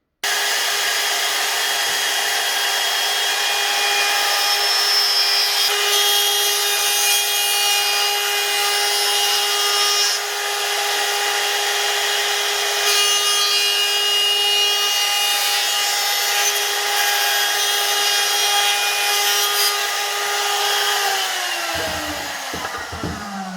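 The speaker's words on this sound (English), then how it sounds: "I'm going to use my router for that." A wood router chamfers the sides of a wooden flush-trim saw with a loud, continuous high whine that holds steady for about twenty seconds, then spins down at the end.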